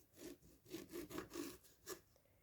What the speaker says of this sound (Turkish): Limonları olabildiğince ince ince dilimliyoruz.